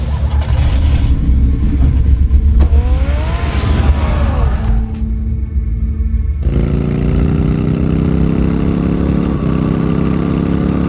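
A car engine in the Batman video game starts and idles, then revs and settles into a steady, loud, close hum with a few pitch shifts.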